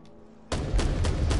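An enemy opens fire in the game Black The Fall: after a quiet moment, a sudden loud burst of rapid, rhythmic heavy shots begins close by and keeps pounding.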